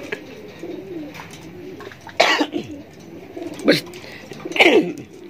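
Soft, throaty bird coos repeat several times at close range, mixed with a few sharper bursts over quiet background sounds.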